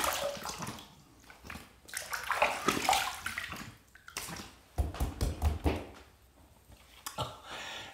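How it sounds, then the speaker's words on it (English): Water splashes and sloshes close by as a face and razor are rinsed after a shaving pass, with bursts of running water, brief pauses and a few louder splashes toward the end. "Let's rinse."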